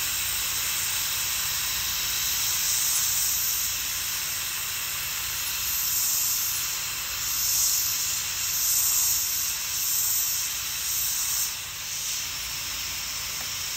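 Plastic welding on a Jeep ZJ electric fan shroud, a continuous loud airy hiss like a hot-air welder blowing steadily, with slight swells and dips and no talk.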